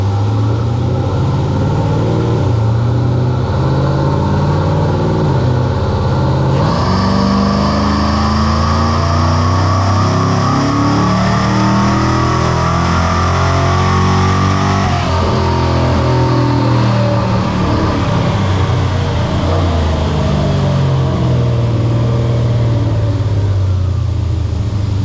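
A Dodge Dakota R/T with a stock intake manifold revs on a dyno during a full pull, its loud, close engine note climbing and falling in pitch over a long, continuous run.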